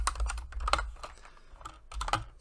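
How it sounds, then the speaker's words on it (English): Keys on a computer keyboard are tapped in a quick, uneven run of soft close-up clicks with short gaps between bursts, and no voices are heard. "So we're going to type in the symbol."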